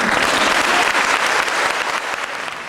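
Dense applause from an audience at an evening gathering, loud and continuous for the whole stretch before easing slightly at the end, with no voice on top.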